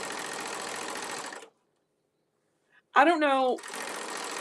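A sewing machine stitches along a folded fabric edge with a steady, loud whirring run, then stops briefly while a voice speaks. Stitching resumes at the end.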